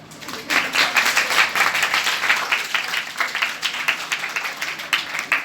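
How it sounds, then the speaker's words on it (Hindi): Schoolgirls at a government senior secondary school meditation event in Gurugram clap together in a lively, pulsing burst, loud and close, holding steady throughout. "तालियां बजाओ।"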